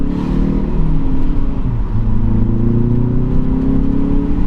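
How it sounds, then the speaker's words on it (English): A 2016 Hyundai Veloster Rally with a 1.6-liter turbo engine accelerating in second gear, a steady close engine drone with rising tones that climb through the run, heard continuously from inside the car. "this car is a very prominent turbo sound, and is all the better for it"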